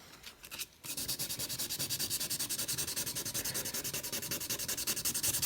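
Hand sanding with 1200 grit sandpaper produces rapid, even back-and-forth scratchy strokes in a steady rhythm, close and continuous after a brief pause at the start.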